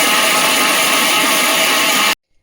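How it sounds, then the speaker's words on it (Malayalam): A mixer grinder blending milk cream with water for homemade ghee, a loud, steady, dense whirring roar up close that runs about two seconds and then cuts off abruptly. "ഇനി ഇത് നല്ലതുപോലെ മിക്സിയുടെ ജാറിലൊന്ന് അരച്ചെടുക്കുക."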